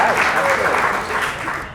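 A theatre crowd at a Kansas City Fringe performance claps to vote for its favourite scene, producing steady, full-room applause that holds for over a second before thinning out at the end.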